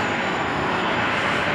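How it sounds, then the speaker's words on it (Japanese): Aircraft engines roar steadily at an airport where many planes are parked, a continuous broadband drone throughout with no talking over it. "飛行機がいっぱいあるとこに来ました。"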